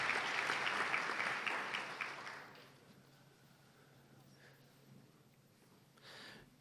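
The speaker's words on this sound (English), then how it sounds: "Can we give another round of applause for all these newest members," Audience applause at a National Honor Society induction ceremony, a steady round of clapping that fades out after about two and a half seconds, leaving quiet room noise with a brief stir near the end.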